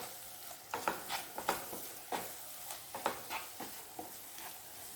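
Ingredients sauté in oil in a pan for a hotel-style chicken gravy, giving a soft, steady sizzle with irregular scraping strokes of a stirring spoon, fairly quiet and close, with no talking.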